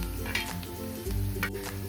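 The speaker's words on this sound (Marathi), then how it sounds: "आता आपला कांदा परततो।" Onion is sautéed in a pan, making a continuous close sizzle with occasional stirring scrapes over a faint low background hum.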